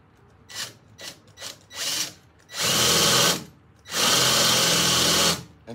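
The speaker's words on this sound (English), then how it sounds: "I'm going to drill through the same hole so they'll be spotted at the same place" A power drill bores through metal on a Ford F150 mod, close and loud. A few short stuttering bursts come first, then two long sustained whines of grinding.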